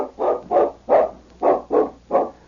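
Large dog barking outdoors in a forest clearing, six evenly spaced deep barks in quick succession, close and fairly loud with no talk.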